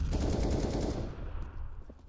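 Rapid automatic gunfire rattles loudly in a Counter-Strike match at a Boston Major esports event, a dense burst lasting about a second before trailing off into fainter scattered shots.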